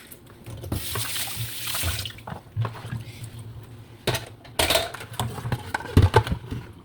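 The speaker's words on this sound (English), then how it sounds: "But now I'm using hot water. So just wash them away." Vegetables being washed under hot running tap water in a home kitchen sink, with splashing and bursts of water, light clinks of dishes, and intermittent soft handling noises.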